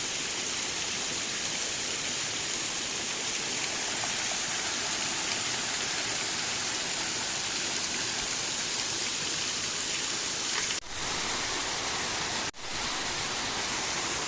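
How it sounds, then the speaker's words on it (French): Constant broadband roar of the Grandval waterfall in Cantal, loud and steady like heavy rain, with a couple of brief dips near the end. "Sur le côté de la cascade, ça fait comme un rideau de pluie."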